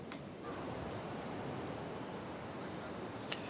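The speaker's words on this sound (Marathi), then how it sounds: "गंगापूर धरणातून 3025 क्युसेक वेगाने पाण्याचा विसर्ग गोदावरी नदीपात्रात सुरू करण्यात आलाय" Water from Gangapur dam near Nashik, released at about 3,000 cusecs into the Godavari riverbed, makes a faint, continuous rushing hiss heard from a distance.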